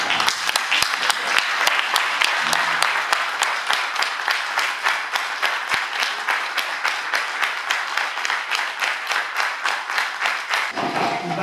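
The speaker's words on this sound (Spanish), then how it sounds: "que nos pongamos de pie y brindemos un aplauso por el compañero Facundo Morán" A standing audience at a book presentation in Argentina claps together in a strong rhythmic unison beat, close and steady, the synchronized claps repeating evenly for several seconds before fading out.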